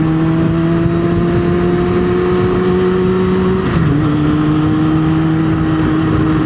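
A Gen 1 Yamaha R6 motorcycle held at high RPM produces a loud, sustained whining engine tone that dips briefly in pitch midway, as if shifting, then holds steady again, with no talking.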